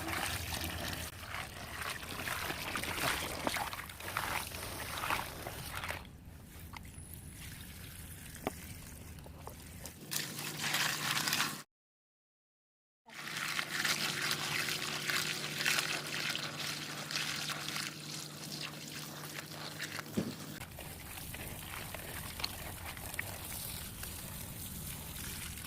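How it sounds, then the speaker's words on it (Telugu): Water poured and splashed over freshly cut crabs being rinsed, a continuous trickling and sloshing with a brief silent gap partway through and a low steady hum in parts. "ఈ పీతల్ని కట్ చేసుకున్న తర్వాత నీళ్ళతో శుభ్రంగా 2 సార్లు బాగా శుభ్రంగా కడుక్కోవాలి"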